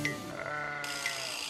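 A sheep bleats in a long, wavering cry that holds steady, close and clear, with no voices over it.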